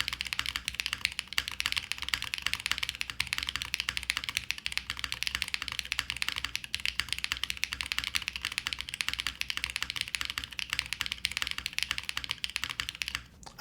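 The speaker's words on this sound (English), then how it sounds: "It's a nice sounding keyboard." Rapid, continuous clicking of a QK75N mechanical keyboard being typed on, crisp and close, with no talking.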